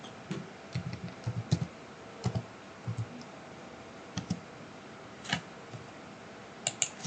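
Typing on a computer keyboard while working in Revit 2023 produces faint, scattered clicks and short bursts of keystrokes in a quiet room. No one speaks.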